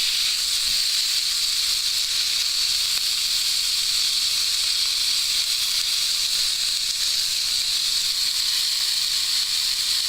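Steak searing in a hot pan gives a constant, even hiss and sizzle, close and loud throughout with no talking over it.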